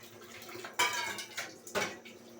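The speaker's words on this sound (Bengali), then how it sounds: "দিয়ে দিচ্ছি ঝোলের পানি।" Broth water is poured into a pot of curry cooking on the stove, giving a few short, quiet splashing and clattering bursts in a calm kitchen.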